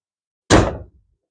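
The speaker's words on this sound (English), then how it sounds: "I do like the way that door shuts." One solid thunk of a car door swinging shut, close and loud with a short decay, alone in an otherwise quiet garage.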